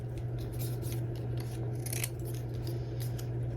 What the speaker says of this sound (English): I was just kind of cutting them to a manageable size